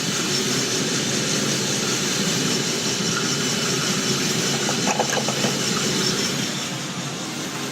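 An antique, rebuilt Gothot 8K coffee roaster drum turns with beans inside during the drying phase, giving a steady, loud mechanical rumble and whir that holds throughout, easing slightly near the end.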